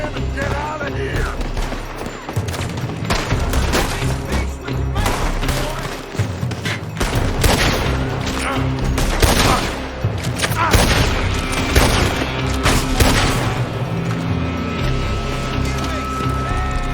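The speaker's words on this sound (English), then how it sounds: "They're shooting from that building!" Heavy gunfire fills a Red Dead Redemption 2 shootout as dense volleys of rifle and pistol shots crack in overlapping bursts, mixed with booms and thuds, continuing loudly throughout.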